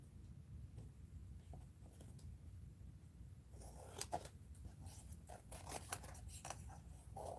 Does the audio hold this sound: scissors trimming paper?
yes